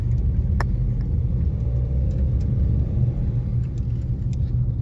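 Engine of a 2019 Honda CR-V diesel pulling uphill, a steady low rumble with a mid-range drone holding evenly throughout, close and fairly loud, with a faint brief click early on.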